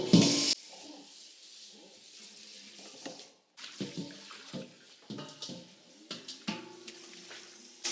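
Tap water runs and splashes into a large 30-quart kitchen bowl as it is rinsed out, with the flow starting and stopping alongside hollow clunks and scrapes of the bowl being handled.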